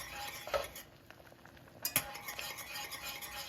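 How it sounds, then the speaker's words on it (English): A utensil stirs a thickening mixture in a cooking pot on the stove, giving soft scraping and light clinks against the metal with a faint simmer underneath, close and fairly quiet. "And just keep stirring it."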